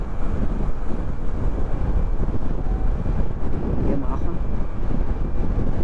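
A running Yamaha boat motor drones steadily and close throughout, a continuous low engine rumble mixed with wind buffeting the microphone on open water during a trip between Zamboanga and Davao.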